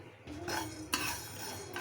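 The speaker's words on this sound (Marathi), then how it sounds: "हलकं हलकं कमी गॅसवर थोडं सगळं आपण भाजून घेऊया" Fenugreek seeds roast in a pan on a low gas flame, giving a steady dry rustle with light metallic scrapes and clinks of a spoon stirring, no talking.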